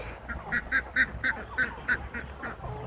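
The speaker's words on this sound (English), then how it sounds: "There's two ducks laying on it." Ducks quack in a steady series of about ten calls, fairly close, over a low outdoor background hum.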